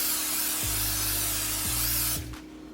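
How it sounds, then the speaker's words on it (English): A continuous close hiss of an aerosol can of cooking spray coating a bread pan for about two seconds, then cutting off. "Now we are going to take our bread pan and spray it with cooking spray."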